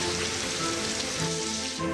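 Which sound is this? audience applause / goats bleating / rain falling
rain falling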